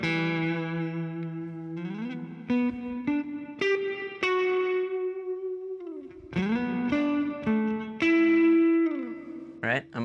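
Electric guitar notes through an EarthQuaker Devices Avalanche Run delay and reverb pedal ringing out with lush reverb and echoing repeats, sustained tones sliding between pitches, fairly loud and spacious.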